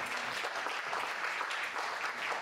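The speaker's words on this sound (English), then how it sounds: "Yeah, I would give that an applause." Audience applause at a church spotlight interview, a steady wash of clapping from many hands, moderately distant and continuous with no voices over it.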